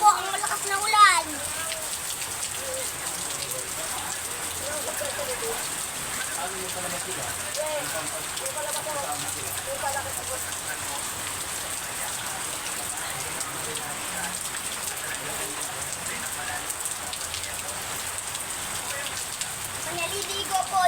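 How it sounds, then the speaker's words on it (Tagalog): Continuous hiss of rain falling on surfaces, with brief bits of talking near the start and scattered voices underneath. "Ayun po ang malakas na ulan."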